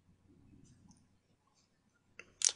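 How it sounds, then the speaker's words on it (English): Two quick, sharp mouse clicks near the end, close and distinct, after soft faint room noise. "I'm going to click preview"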